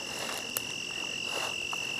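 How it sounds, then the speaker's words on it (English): Crickets sing at night beside night-flowering evening primrose, a steady high continuous trill that carries evenly throughout with faint background noise and no voices. "The cricket singing."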